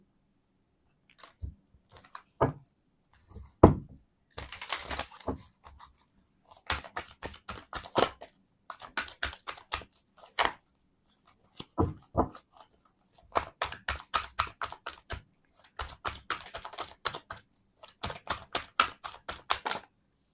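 Tarot cards are shuffled close up in quick, crisp riffles and flicks, with paper snapping in bursts separated by short pauses.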